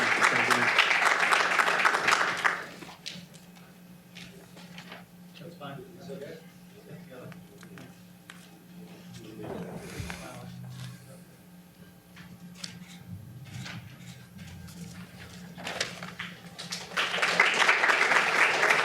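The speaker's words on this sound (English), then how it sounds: "Let's give a great round of applause for Molly DeMeo" Graduation awards ceremony applause for an honoree swells for a couple of seconds, gives way to quiet speech and room noise, then rises again as clapping near the end.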